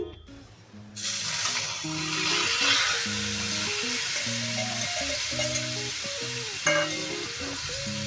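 Amaranth leaves hit a pan of frying peanuts and sizzle loudly, a steady, close crackle with stirring, over tonal background sound.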